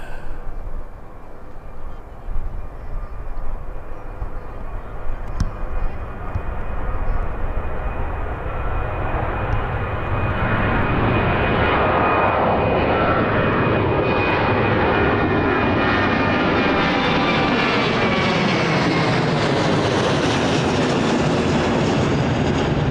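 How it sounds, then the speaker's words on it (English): A passenger airplane at Birmingham Airport passes close by. Its jet engines rise from a distant rumble into a loud, sustained roar that holds steady and fills the whole stretch, with no speech. "This, folks, is the final plane of the stream."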